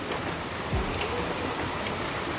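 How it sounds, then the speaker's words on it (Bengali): Steady rain falling outside, an even wash of drops with no pauses or talk. "আর বাইরে হচ্ছে বৃষ্টি। অনেকক্ষণ থেকে বৃষ্টি হচ্ছে।"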